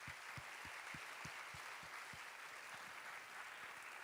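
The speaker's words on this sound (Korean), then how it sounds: "모든 팀들에게 뜨겁게 박수하도록 하겠습니다" A church college-group congregation claps warmly for the teams who prayed, read scripture and sang, a dense, even wash of applause with faint low thumps underneath, heard without talk.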